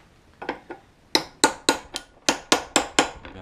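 Hammer tapping on the fan bolt of a Citroën 2CV engine: a couple of light taps, then a steady run of about nine sharp metallic knocks, close and clear with no talk.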